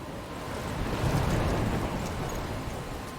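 Stormy weather in the video game Life is Strange, with steady rain and wind on a coastal cliff, a continuous dense roar that swells slightly midway and holds loud throughout, no voices.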